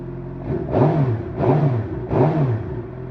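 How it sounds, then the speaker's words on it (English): A steady 2022 Suzuki GSX-R750 motorcycle engine and exhaust drone with three rhythmic swells roughly a second apart, each rising in pitch then falling back, loud and close. "So that's going to get a lot of noise from the exhaust."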